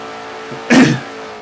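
A race car in a sim racing game at the Glen circuit, NNSCRA Castrol GTX Cup car number 98, makes one short, loud engine burst lasting about a quarter second, rising sharply and then fading beneath a steady background hum.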